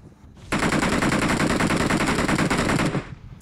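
Rapid automatic gunfire from the video game BGMI, a loud sustained burst of machine-gun shots lasting about two and a half seconds after a brief quiet start, then cutting off.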